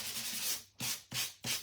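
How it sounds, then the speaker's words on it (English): A light sanding block rubs across cardstock in four short, close strokes, a soft dry scratching that stops and starts at a steady rhythm. "you can use any light sanding block or sandpaper"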